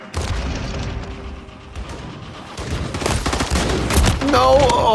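Rapid akimbo gunfire in Call of Duty MWIII, dense loud bursts of shots and booms that run continuously and build toward the end.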